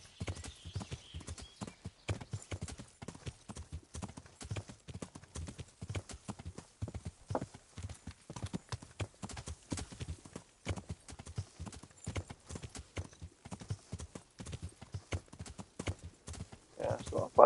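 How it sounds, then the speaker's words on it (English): A horse in the medieval game Kingdom Come: Deliverance arrives at a steady trot, its hooves clip-clopping in a crisp, continuous, evenly paced rhythm close by. "Get my horse over here"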